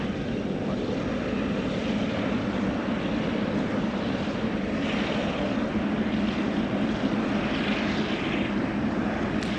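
An EVA Air airliner with GE90 engines takes off from San Francisco, and its jet roar holds as a loud, steady, broadband rumble all the way through.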